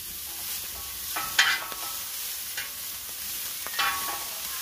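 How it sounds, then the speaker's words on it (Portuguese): Chopped kale, lightly salted, sautés in a pan on a wood-fired stove as a side for feijoada. A soft, constant sizzle runs throughout, broken by a few brief scraping stirs; the sound is fairly quiet and there is no speech. "a couve vai dar aquela refogada para acompanhar a bela feijoada aí da dona Márcia"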